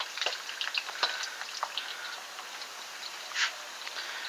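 Potatoes for french fries frying in hot oil give a steady close sizzle with crackling pops and occasional stirring scrapes, with no voices.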